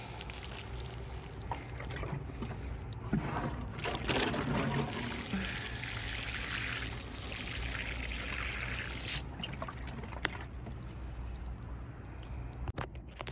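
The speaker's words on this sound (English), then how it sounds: "I can actually feel like I'm watering a plant now" Water trickles and splashes steadily as a pumpkin plant is watered in a hot spring garden, a soft, close, continuous pour with small spatters and no talk.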